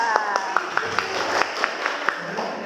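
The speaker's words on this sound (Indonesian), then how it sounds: "Tepuk tangan untuk kelompok 2." A small classroom group claps for the winning team in a rhythmic, unison pattern of about a dozen sharp beats, evenly spaced and close by, with faint voices underneath.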